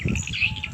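Birds chirp at a small farm house in a brief, bright burst of tweets over a low background rumble, with no talking.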